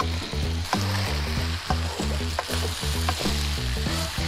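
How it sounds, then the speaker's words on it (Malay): Oyster sauce and sweet soy sauce frying in a pan for a prawn chili spaghetti sauce, a steady loud sizzle with rhythmic scraping strokes of stirring throughout. "Lepas tu kita goreng dulu. Kita goreng dulu biar dia sebati"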